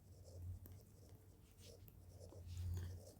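Pen scratching across paper while a right triangle is drawn and labeled for a height-and-distance math problem, faint and close, with soft continuous strokes and no talking.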